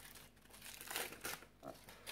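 Baking paper crinkles and tears as it is peeled off parmesan herb shortbread biscuits, in a few short rustling bursts, close by and fairly quiet.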